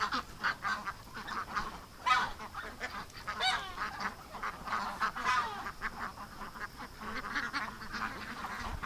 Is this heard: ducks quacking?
yes